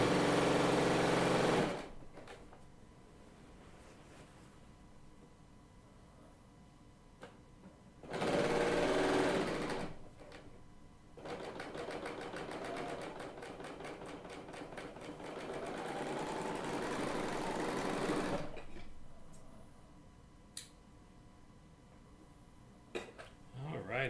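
Bernina L890 serger sewing machine running in several bursts, a fast high-pitched whirring stitch close by, with short pauses and a longer sustained run in the middle.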